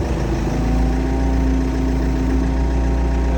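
An old CAT machine idles close by, its engine giving off a steady, loud, low rumble with an even mechanical hum and no variation or voices across the few seconds.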